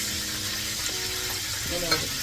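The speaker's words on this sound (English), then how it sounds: "I make a big mess frying chicken" Constant loud sizzling of chicken frying in hot oil, a dense crackling hiss with faint muffled tones underneath.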